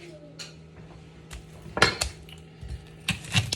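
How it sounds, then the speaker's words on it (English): Onions are set onto a metal roasting pan previously used for bones, producing a few soft scattered clunks and metallic clinks, close by and fairly quiet, with no talk. "I'm just putting these right on that same pan that I used for the bones"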